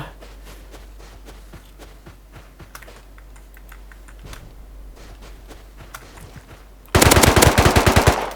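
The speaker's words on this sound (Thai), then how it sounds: "ยิงแล้วยิงแล้ว" Rapid video game gunfire breaks out near the end as a loud, dense burst of shots, following a quieter stretch of scattered clicks and keyboard-like tapping.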